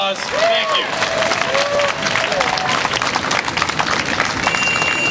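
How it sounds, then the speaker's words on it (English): Warm audience applause welcoming a labour council president at a public event, full and steady with scattered cheering voices mixed in through the clapping. "Big, warm round of applause"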